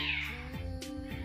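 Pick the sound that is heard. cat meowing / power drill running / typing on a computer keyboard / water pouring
cat meowing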